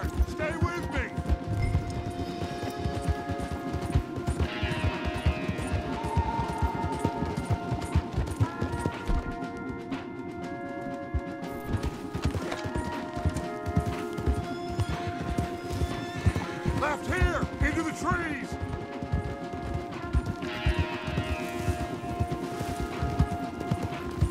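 Rapid, continuous hoofbeats of horses galloping in Red Dead Redemption 2, with neighs and whinnies, layered over music and other game sounds.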